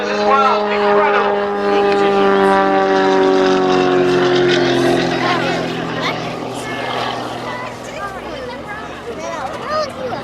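A 40%-scale propeller model aircraft performs at the Old Buckenham Airshow, hovering on its own propeller with a loud, sustained droning engine note that slowly shifts in pitch while a commentator talks over it.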